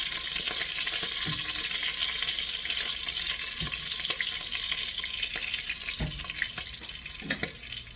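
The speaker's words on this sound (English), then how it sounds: "While you're sauteing the meat, which means to brown it" Pieces of lamb sauté and brown in a hot pan, giving a continuous close sizzle with occasional sharp crackles and pops as the meat is moved.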